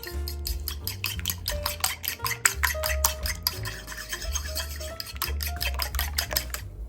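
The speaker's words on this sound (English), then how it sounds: "I'm going to beat my eggs." Eggs being beaten in a bowl for a blueberry omelet with farmer's cheese, a quick run of close, rhythmic clinking and whisking strokes against the bowl, steady and busy with no talking.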